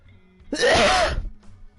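A single loud, close sneeze bursts out sharply and fades within about three-quarters of a second, followed by quiet room noise.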